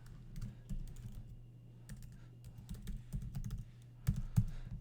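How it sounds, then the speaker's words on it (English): Someone types on a computer keyboard, producing quiet, irregular bursts of close key clicks with brief pauses between runs, while a faint steady hum sits underneath. "you just type in your email"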